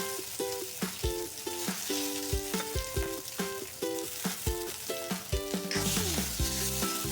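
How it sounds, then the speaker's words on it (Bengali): Chopped onions sizzle and fry in hot oil for a chicken curry, giving a steady crackling hiss that continues under rhythmic background music. "আমি পেঁয়াজটা ফ্রাই করে দিলাম।"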